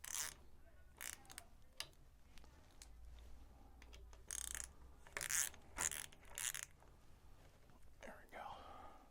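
Small tool work while tightening the plastic turn signal mount on a 2022 Indian Chief motorcycle: scattered ratcheting clicks and metallic handling noises in short bursts, close and fairly quiet, with some soft low talk.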